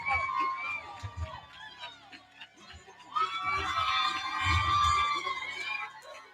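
Crowd cheering and whooping as a woman fighter enters the ring at a fight night, with her team among the fans; a dense roar of shouts swells and surges, with voices calling out close by.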